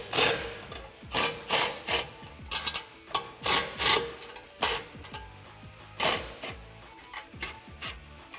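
A 17mm socket and wrench loosen the bolts on a Deegan 38 rear bumper with tire carrier on a Jeep Wrangler JL, heard as repeated close ratcheting and rasping strokes in uneven bursts with short pauses between them.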